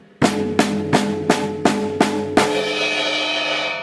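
A drum kit plays a fill of seven even, sharp hits in steady rhythm, close and loud, with the last crash ringing out alone after.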